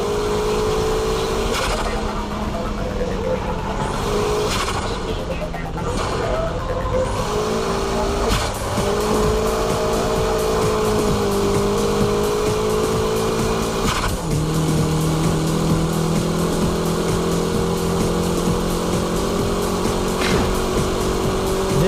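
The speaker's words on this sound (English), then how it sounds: "This is the ultimate style of drifting, high-speed drifting." A car drifting at high speed, its engine droning loudly and continuously with shifting pitch and a steady roar of tire and road noise.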